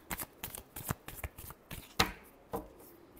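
Tarot cards being shuffled by hand, a series of soft quick riffling and tapping strokes close by in an otherwise quiet room.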